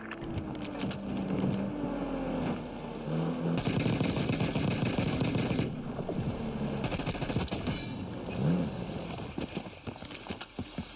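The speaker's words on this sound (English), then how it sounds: "Who is shooting at me?" Gunfire in Call of Duty Warzone, a scatter of sharp shots and short rattling bursts with gear and footstep clatter between them, fairly close and uneven in rhythm.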